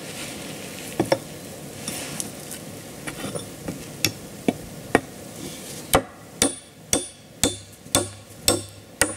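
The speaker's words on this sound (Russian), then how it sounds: "Чтобы было более крепко, можно прибить не на один гвоздь, а на два." Nails hammered into wood to build a trap, a run of sharp hammer blows striking one after another, spaced at first and then steady and evenly paced, close and loud over quiet outdoor background.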